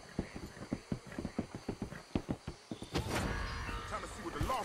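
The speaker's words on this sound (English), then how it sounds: "Hope I never have to be on that horse again, dang animals." Horse hooves clip-clop in Red Dead Redemption 2 in a steady, close rhythm of sharp, even beats, giving way to a louder burst of broad rustling noise near the end.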